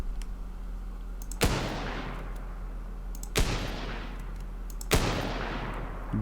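Three single hunting rifle shots in Teardown, spaced about two seconds apart, each a sharp loud crack followed by a long fading echoing tail.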